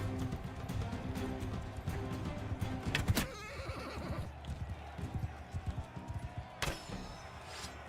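A horse in a medieval battle within Mount and Blade 2: Bannerlord neighs and clatters amid combat noise, with sharp impacts and hoof-like clopping and a brief loud crash partway through.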